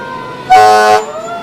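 A single loud horn blast from a fire truck lasting about half a second, with a strong tonal blare over a steady vehicle rumble, at a Christmas parade.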